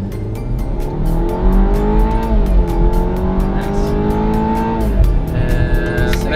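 A 2017 BMW X3 SUV with a 241-horsepower engine pulls hard from a standstill toward 60 mph, its loud engine note climbing steadily in pitch, dropping briefly at a gear change, then rising again under continuous road and wind noise.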